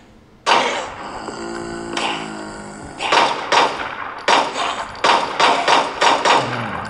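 Gunfire from a mobile shooter game, sharp loud single shots followed by rapid bursts of repeated blasts with short gaps between them.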